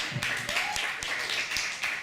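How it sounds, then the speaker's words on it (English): An audience at a poetry night claps for the poets who performed, a thin, steady patter of hand claps with scattered sharper slaps, moderately distant and fairly quiet. "can you just give another big round of applause for every one of our poets who have come on the stage tonight?"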